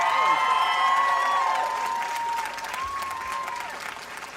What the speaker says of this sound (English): I was just telling them to give you a round of applause